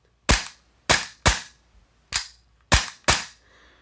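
Tokyo Marui G17 airsoft pistol with a Volante blowback unit, aluminum slide and barrel, and Firefly recoil kit firing six sharp, loud, close snaps in an uneven rhythm, two fired in quick pairs, with no talking.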